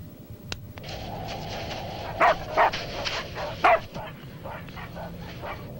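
Several dogs bark in a snowy Antarctic setting, with a series of sharp, loud barks in the middle over a steady low background rumble.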